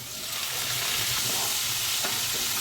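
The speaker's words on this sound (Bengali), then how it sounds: "সব সবজির সাথে গেরিটাও ভালো করে ভেজে নিচ্ছি" Vegetables and freshwater snails frying in a pan, a dense continuous sizzle heard close and loud with faint stirring scrapes under it.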